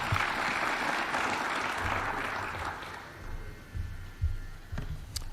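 An audience claps for young innovators at a live event, dense applause that thins out toward the end, leaving scattered claps and low rumbles.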